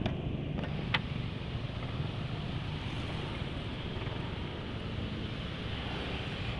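A car engine idles steadily after WEPP 2111 additive was added, a constant broadband rumble and hiss with a faint brief tick near the start and no talking.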